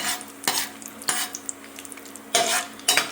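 Cashew nuts fry in a pan on a low flame, a soft sizzle with several sharp scrapes and clinks as a utensil stirs against the pan.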